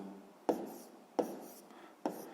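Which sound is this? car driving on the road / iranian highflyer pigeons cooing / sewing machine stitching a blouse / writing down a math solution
writing down a math solution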